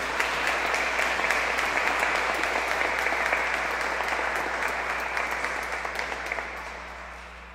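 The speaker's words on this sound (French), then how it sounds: "Alors, je vous présente Caroline et Simon, que nous pouvons applaudir pour leur entrée dans notre communauté." Steady applause from a large Sunday Mass congregation, dense clapping that holds strong and then gradually fades toward the end.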